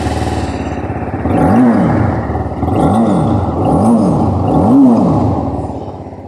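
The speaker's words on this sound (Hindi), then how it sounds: "चलिए इंजन का जो एग्जॉस्ट नोट है वो भी सुन लेते हैं।" A 2021 TVS Apache RR 310 BTO motorcycle engine idles loudly close by, then is blipped four times in rising and falling revs, each throttle burst separated by a brief return to idle.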